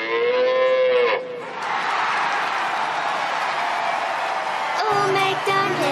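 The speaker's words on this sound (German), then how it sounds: "Ist plötzlich eine Kuh hier drin?" A loud cow moo opens, then a steady roar of crowd noise, with more mooing returning near the end.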